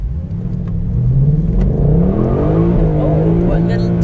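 A Formula 1 car on a hot lap accelerates hard with rising engine pitch and gear changes, drifting at the start, loud and close from onboard, with voices heard over the engine.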